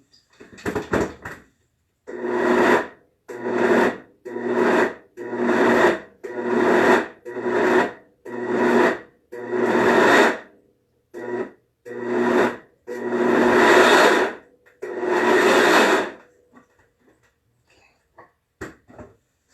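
A kitchen blender pulses repeatedly in short grinding bursts while raw hummus is being prepared, about a dozen loud on-off spurts with brief gaps, ending in a longer run before falling quiet.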